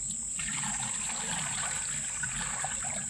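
Water runs steadily over wolffia plants to rinse out salt, a soft continuous trickle and splash with a high constant whine in the background and no voices.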